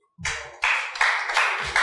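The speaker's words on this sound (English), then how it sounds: "thank you for that clap" An open mic poetry audience claps after a performance, a short burst of applause starting abruptly and swelling in waves of overlapping hand claps.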